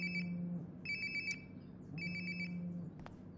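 Phone ringtone in the video game Life Is Strange Before the Storm, two repeated bursts of bright electronic tones with a pause between, heard alone over a low steady hum.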